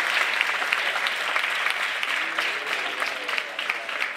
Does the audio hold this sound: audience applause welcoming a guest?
yes